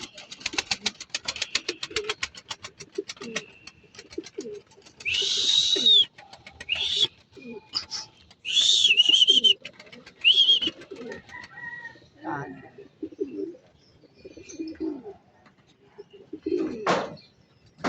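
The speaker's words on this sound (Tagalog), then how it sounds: "Mga kaibon, pababayin lang natin yun, ha? Meron pang isang dumarating." Pigeons arriving and settling on a rooftop in Candelaria, Quezon, with repeated close wing flutters and scattered calls, while someone talks over them throughout.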